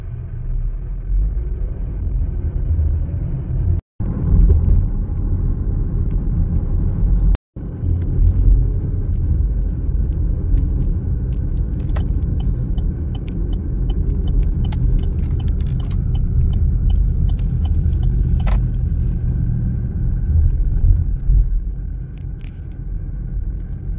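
Steady, loud engine and road rumble from a car driving around Albuquerque, New Mexico, continuous throughout with two brief dropouts and a few faint clicks and rattles inside the cabin, no talking.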